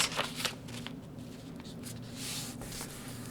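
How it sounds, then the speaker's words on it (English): Scissors cut along the edge of a sheet of paper, making a soft, close rustling snip with faint crisp strokes and no speech. "with my scissors here, I'm going to cut off this edge"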